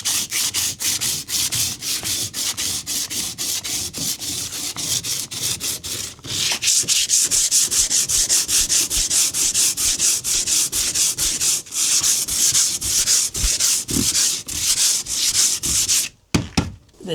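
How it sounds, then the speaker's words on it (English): Hand sanding a wood and canvas canoe, rapid rhythmic back-and-forth rasping strokes, close and steady, pausing briefly near the end. "So yeah, so I shall do a bit of sanding"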